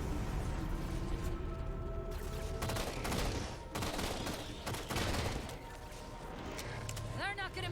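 Sustained gunfire in the video game Halo 4 hoses out in rapid automatic bursts, dense and loud, thinning toward the end, with a voice talking over the action.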